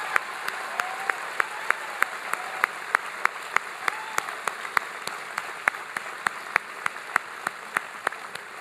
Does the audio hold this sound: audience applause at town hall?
yes